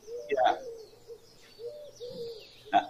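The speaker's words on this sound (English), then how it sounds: "It's clearly a dove sound, but it's faster than the mourning dove" A dove gives a few quick, soft hooting coos in short spaced bursts, faster than a mourning dove, faint to moderate in a quiet outdoor setting.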